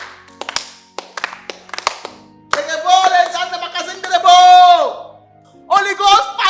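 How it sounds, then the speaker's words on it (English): A few sharp, separate hand claps in a sparse rhythm at a church-style gathering, followed by a loud shouting voice and more brief claps at the end. "More clap."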